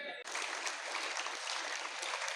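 Applause at a Gujarati election campaign event: a dense, continuous roar of clapping from a large crowd starts abruptly and holds steady and loud.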